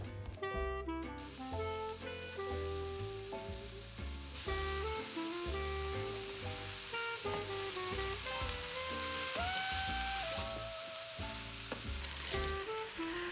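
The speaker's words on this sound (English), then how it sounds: "I add veggies in batches as I see the ones in the pan starting to soften and darken" Mixed vegetables fry in batches in a pan with sesame oil, a steady hiss running through the whole clip beneath loud, continuous music.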